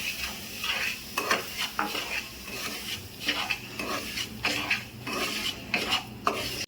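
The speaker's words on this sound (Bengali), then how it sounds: "প্রথমে আমি সুজিগুলো সাদা তেলে অল্প ভেজে নেব" Semolina being fried in white oil for dudh puli pithe, a soft sizzle under rhythmic scraping strokes of a spoon stirring around the pan.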